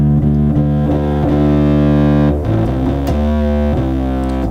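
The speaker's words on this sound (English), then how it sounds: "with this kind of overdriven, kind of heavy, distorted sound" An electric guitar runs through a heavily overdriven, fuzzy distortion effect, chords ringing loud and sustained with a few rhythmic restrikes and one brief dip before the thick, dirty tone resumes.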